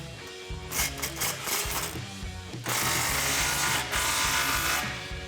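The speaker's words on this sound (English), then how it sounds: "grab a 15mm deep socket and tighten that down" A power tool rattles hard and steadily while tightening an exhaust clamp with a 15mm deep socket on a 2011-2014 F150 EcoBoost dual exhaust, running in continuous bursts close by with no talk.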